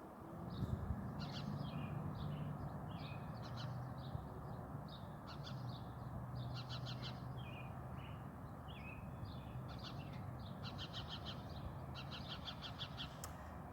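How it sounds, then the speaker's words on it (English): A house sparrow chirps from a nest in the roof gutters above a garden, repeated short bursts of calls in an irregular series over steady outdoor background noise, moderately close. "there's a house sparrow nest up in the gutters, and the daddy house sparrow is chirping at us"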